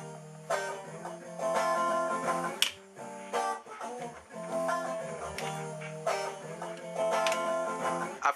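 A slowed-down guitar sample plays back on an SP-1200 sampler, with plucked notes and chords in short phrases and sharp transients between them. It sounds fairly quiet and clean, with no talk over it.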